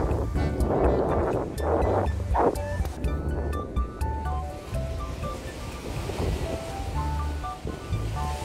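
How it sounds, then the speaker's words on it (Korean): Sea waves washing against a tetrapod breakwater, a steady rushing surf with wind noise, fairly close. "그러니까 뒤에가 파도소리 들리잖아"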